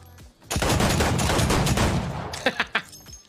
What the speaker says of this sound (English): Oh my god, look at the hip fire.